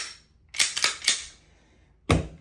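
Sharp metallic clicks and snaps come from a pistol magazine extension being taken apart, four distinct close-up clacks in two groups with a short quiet gap between them and no voices.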